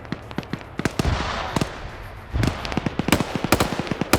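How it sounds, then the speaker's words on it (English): Rapid bursts of video game gunfire crackle in irregular clusters, sharp and fairly close, over a steady noisy backdrop of game action. "You hear those gunshots to your left, buddy."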